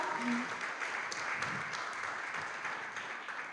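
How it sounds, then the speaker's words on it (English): A crowd applauds to welcome a guest speaker at a care-experience conversation event, a continuous mid-level wash of clapping that gradually tapers toward the end. "Round of applause for Olivia"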